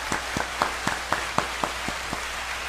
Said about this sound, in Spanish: Démosles la bienvenida y un gran aplauso a Guarionés Alcántara.